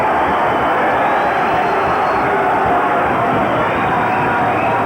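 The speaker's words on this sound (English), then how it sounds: "the crowd here absolutely going berserk" A soccer stadium crowd roars after a goal in a Newcastle KB United versus St. George National Soccer League match, a dense, loud wall of cheering that holds steady without a break.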